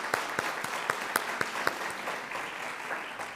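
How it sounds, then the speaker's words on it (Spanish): A short round of clapping from a small conference audience for speakers, individual sharp claps standing out before fading into a softer patter. "una ronda de aplausos para nuestros ponentes"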